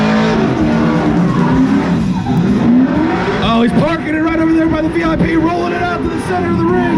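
Car spinning its wheels at a Hoonigan show at SEMA in Las Vegas, a loud revving engine and tire squeal sweeping up and down over a noisy crowd, with a commentator talking throughout.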